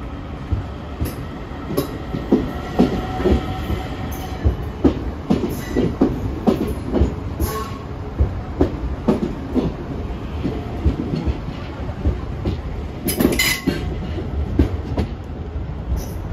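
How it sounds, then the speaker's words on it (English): An Irish Rail DART electric commuter train, bound for Greystones, runs along the tracks near Dublin with steady wheel rumble and rhythmic clickety-clack of wheels over rail joints, heard close and moderately loud throughout without talk. "Here's our train headed for Greystones, followed by a train from Malahide."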